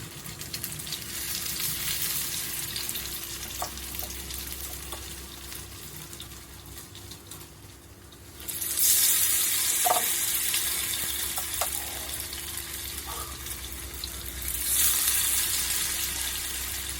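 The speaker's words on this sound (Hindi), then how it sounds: "एक एक पीस लेकर डालेंगे हम स्लरी में, बढ़िया से कर लेंगे कोट और डाल देंगे ऑयल में।" Besan-batter-coated pieces of raw poha sizzle in hot oil over a medium flame, a steady close frying hiss that surges louder as fresh pieces drop in, with a few light clinks.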